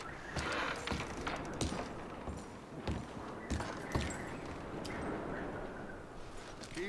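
Irregular horse hoof clip-clops and footstep-like thuds in the video game Red Dead Redemption 2, over a steady low background rumble, moderately loud with no talking.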